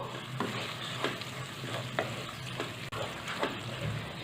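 Blanched chopped spinach being stirred into cooked dal in a pot, a soft continuous sizzle with regular spoon strokes roughly every half second, moderately quiet and without talk.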